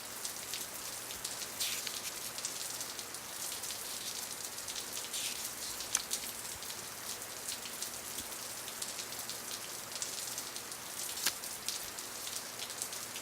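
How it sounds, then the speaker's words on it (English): Rain falling in the woods, a steady, soft patter of drops on leaves and ground with occasional sharper drips, even and continuous throughout. "It was raining in the woods."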